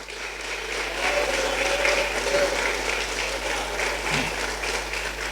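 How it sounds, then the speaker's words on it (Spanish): Strong, sustained applause from a church congregation during a sermon, dense steady clapping filling the room for several seconds with a faint tonal hum underneath. "Dele fuertes palmas."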